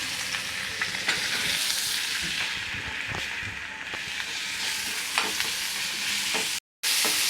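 Onion and curry leaves fry in a pan for a spicy Maharashtrian vada rassa, giving a steady close sizzle broken by occasional spoon stirs and scrapes, with a brief dropout near the end.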